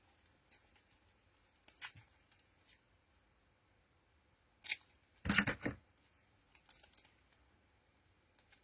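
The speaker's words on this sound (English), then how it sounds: "Scissors, there we go." Scissors snip through craft card in a few sharp, close cuts, one longer burst of crisp snipping in the middle, separated by quiet handling noises and no talking.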